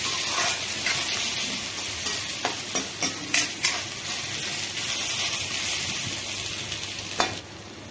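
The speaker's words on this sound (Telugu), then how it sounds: "ఆలు వేసుకుంటున్నా. మళ్ళీ ఒకసారి మంచిగా కలుపుకోవాలి." Potato pieces frying in oil in a pan while being stirred, a steady close sizzle with scattered scraping and clinking of the spoon against the pan.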